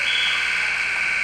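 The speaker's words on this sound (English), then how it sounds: "there's the buzzer for the end of the first bout" A loud, steady buzzer sounds continuously to end the first bout of a varsity high school wrestling match in a gym, with no talk over it.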